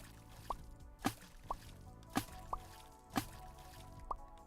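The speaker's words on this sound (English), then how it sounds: "Better water sound." Water splash effects in a Unity game sound as soft, dripping plops that repeat at a steady rhythm about once a second, quiet and close with nobody speaking.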